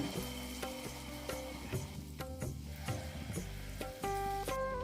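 Sweet banana bonda batter frying in hot oil, a steady close sizzle and crackle with utensil scrapes, and a faint musical tone running underneath.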